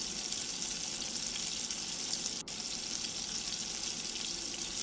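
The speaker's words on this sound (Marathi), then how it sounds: "हे थोडंसं मिश्रण सगळं परतून घ्यायचं आहे, म्हणजे तेलात छान मटार परतले जातात" Green peas frying in oil for a green pulao, a steady, dense sizzle that holds evenly throughout with one brief dip in the middle.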